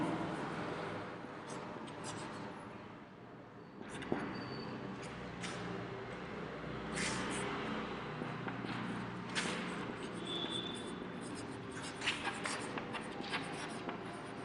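A pen scratches steadily across a writing surface as a number's expanded form is written out in a maths lesson, with soft, continuous strokes and small taps, close and fairly quiet.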